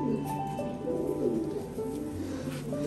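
Giribaj racing pigeons coo close by in soft, repeated throaty rolling calls that overlap one another, with a steady faint hum beneath.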